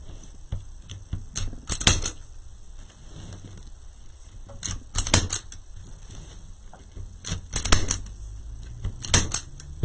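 Scissors snipping through craft pieces for a daisy chain snowflake wreath, sharp crisp cuts in small clusters separated by quiet pauses, close and clear with no talk.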